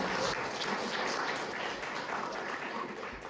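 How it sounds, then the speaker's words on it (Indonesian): Applause in a classroom lecture setting, a steady wash of many hands clapping at moderate, fairly even loudness for a few seconds. "Tepuk tangan untuk Mei."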